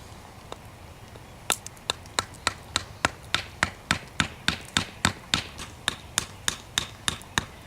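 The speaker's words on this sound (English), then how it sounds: "drive these into the ground" Sharpened wooden stakes are hammered into the ground with about twenty sharp, evenly spaced knocks, one faint strike first, then a steady rhythm of loud close impacts with no talk.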